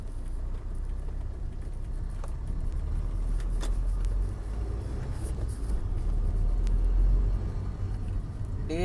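A modified Suzuki Swift diesel with about 1.5 lakh km accelerates on a Bangalore road, giving a steady low engine rumble from inside that swells toward the end, with faint road noise around it.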